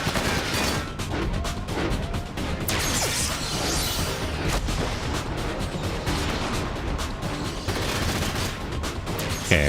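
Steady barrage of gunfire and mechanical crashes from mech combat in the video game Front Mission 5, dense overlapping shots and explosions running continuously at a loud, even level with no talk.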